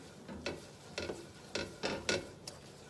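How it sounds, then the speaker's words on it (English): A whisk works flour into a roux in a pan for smothered pork chop gravy, making about six soft, rhythmic scraping strokes that sound faint and close, with no voices. "But just keep whisking it around."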